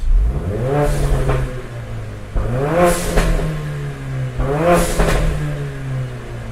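Mercedes CLA45 AMG with an Armytrix valvetronic exhaust, valves open, revs three times in a row, each loud rising blast of engine note falling back to a rumbling idle between pulls.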